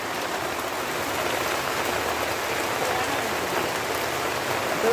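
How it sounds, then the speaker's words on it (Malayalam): Heavy rain pours steadily onto surfaces outdoors, a dense, unbroken roar of drops that holds even and loud throughout with no voices. "എന്ത് മഴയാണല്ലേ."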